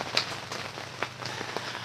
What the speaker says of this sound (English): And we got rain. Lots and lots of rain.